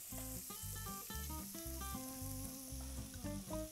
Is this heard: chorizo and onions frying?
yes